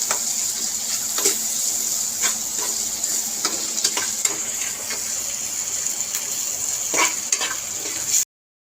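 Eggs are stirred into an onion masala in a hot pan, with a constant sizzle of frying under scattered scraping strokes of a spoon against the pan, close and fairly loud throughout.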